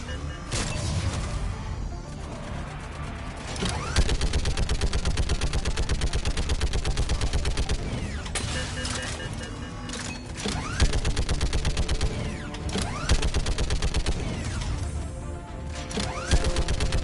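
Dense, rapid video game gunfire crackles almost continuously, with sharp bursts and heavy impacts layered over a loud, busy background of combat noise.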